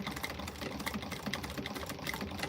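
Sewing machine running steadily while stitching pocket lines on a quilted bag, a quiet, fast, even mechanical patter with a faint rhythmic tick, close by with no talk.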